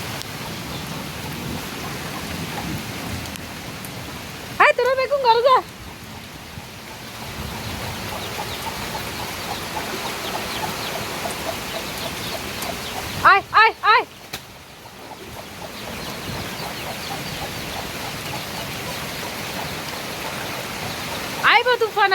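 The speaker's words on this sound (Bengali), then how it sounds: "প্রায় এক ঘন্টার মতো বৃষ্টি হয়েছে" Heavy rain pours steadily in a strong windy storm at a rural home, a dense hissing roar with louder gusting surges at intervals, while people talk briefly underneath.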